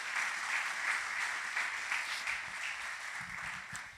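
A church congregation claps in praise to the Lord, a soft, steady wash of applause heard from a distance, fairly faint and continuous throughout.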